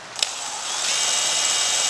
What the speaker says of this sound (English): chuck one end in the drill and secure the other end just in the vise